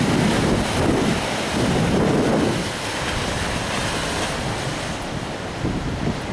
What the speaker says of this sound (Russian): Сумасшедший, безумный, страстный океан.